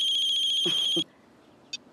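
Mobile phone ringtone chirping in a repeated electronic tone, loud and close for about a second before cutting off, followed by a faint short beep.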